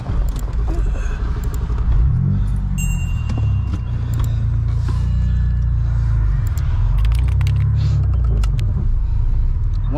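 A 660 hp single-turbo BMW 335i engine rumbles steadily up close, its deep drone rising and falling as it revs, with faint mechanical rattles over the top.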